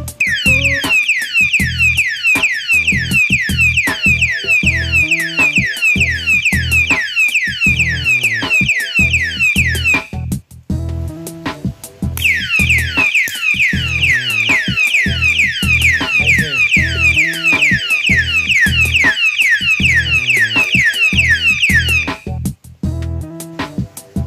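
An alarm padlock's siren shrieks loud and close in rapid repeating warbles, cutting off briefly near the middle before resuming at full volume.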